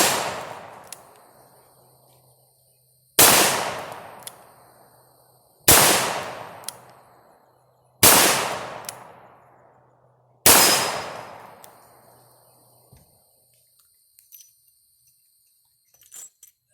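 Five loud revolver shots with 250 grain Keith style bullets at reasonable loads, fired at an even pace a couple of seconds apart, each a sharp crack with a long ringing decay, followed by faint clicks of handling.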